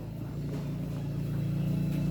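Yamaha SZ 150 motorcycle engine, stock for two years, being cranked and catching, giving a steady close-up mechanical drone with an even pulsing rhythm throughout.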